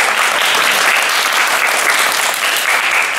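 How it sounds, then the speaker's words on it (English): Dense, steady audience applause fills a room at the close of a live presentation, sustained and fairly loud throughout with no voices standing out. "We applaud you for that."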